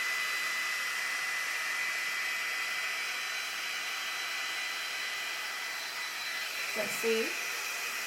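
A Dyson Airstrait hair tool blows a steady, loud airy whoosh with a faint high whine while drying wet hair; near the end a person speaks briefly over it.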